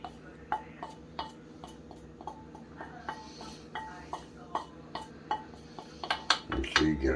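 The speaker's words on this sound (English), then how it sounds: "So mix your hamburger and your ground bologna and cheddar mixture together." A bowl of hamburger, ground bologna and cheddar gets mixed by hand, with regular light clinks and taps of a utensil against the dish and soft mushing beneath, close by, ending in a louder knock.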